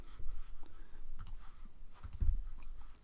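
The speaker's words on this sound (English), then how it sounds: "So I'm going to click on that. Right click." A computer mouse clicking at close range, a few sharp distinct clicks spread irregularly across a quiet background with low handling rumble.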